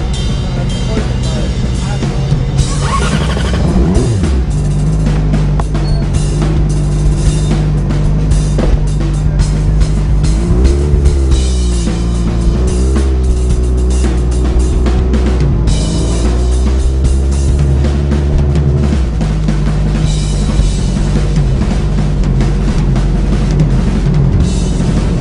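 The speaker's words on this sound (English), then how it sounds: "Stoco Superbike 600 riders is making a way to head out" 600cc Superbike racing motorcycles rumble and idle at a steady drone as they head out for a sprint race at a road-racing event. Engines swell and blip now and then under faint background talk.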